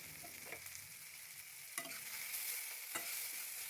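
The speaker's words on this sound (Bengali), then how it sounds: "ভালো করে নেড়েচেড়ে নিচ্ছি" Chopped tomatoes and green chilies stirred in a sizzling pan, a faint continuous frying hiss with a few distinct scrapes of the spatula against the pan.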